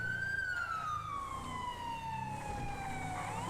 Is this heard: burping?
no